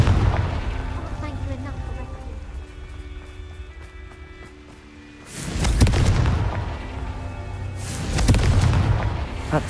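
Two heavy Confringo spell explosions in Hogwarts Legacy, each a loud deep boom bursting out of quieter game ambience and low voices, a few seconds apart.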